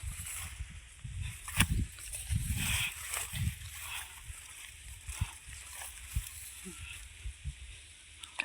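Water being filled and splashing at a farm shed, with irregular sloshes and splatters of varying loudness, one louder burst near the start, against a steady background hiss.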